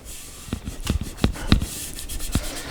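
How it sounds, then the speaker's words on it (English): Strip of masking tape laid and pressed down a guitar neck, a handful of short sharp crackling rubs and taps spaced unevenly, close and crisp with no voices. "Basically what I'm going to do is strip of masking tape down the neck."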